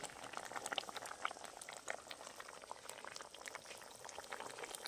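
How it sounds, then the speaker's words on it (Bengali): Water boils in a covered cooking pot, a quiet, continuous bubbling and gurgling with small pops throughout. "এই দেখুন 2 মিনিট মতন ফুটে গেছে"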